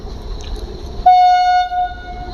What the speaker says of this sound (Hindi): अब सामने आ रही है गुड्स ट्रेन।